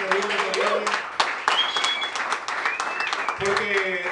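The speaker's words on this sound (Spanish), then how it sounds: "un aplauso para los Tesla" An audience applauds at a live presentation in a concert-like setting, with steady dense clapping throughout and voices mixed in.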